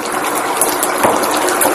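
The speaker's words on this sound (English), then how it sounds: "I'm going to pour this in, and we're going to watch and see what it does here." Water tipped into a deep fryer of hot boiling oil sets off a loud, steady rush of hissing, sputtering noise that holds for the whole moment with no break.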